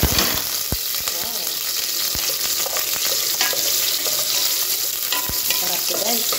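Onions and spices sizzling in hot oil as they are sautéed for sinigang na bangus, a steady loud frying hiss with a few sharp clacks of a spatula against the pan.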